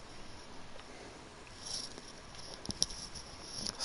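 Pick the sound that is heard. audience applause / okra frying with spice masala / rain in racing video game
rain in racing video game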